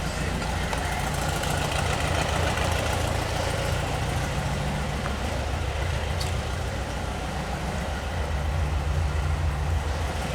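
Air-cooled engine of a 1971 Volkswagen Bay Window bus idling steadily under heavy alternator load from an aftermarket 12-volt air conditioner, a continuous low rumble with no voices.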